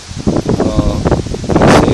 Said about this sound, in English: It's especially hard today because it's very windy.